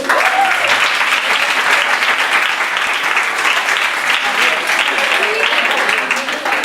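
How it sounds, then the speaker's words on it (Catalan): An audience claps loudly and steadily throughout, a dense wash of hands with no break, filling the room at close range. "Un aplaudiment per tots."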